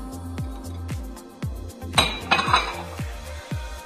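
A utensil mixes omelette ingredients of onion, tomato and green bell pepper in a dish, with steady rhythmic clinks of metal on the bowl and a brief flurry of brighter clatter midway, close and fairly quiet.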